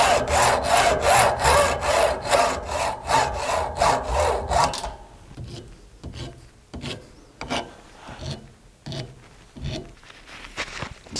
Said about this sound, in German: Jetzt säge ich das einfach mit einer Metallsäge.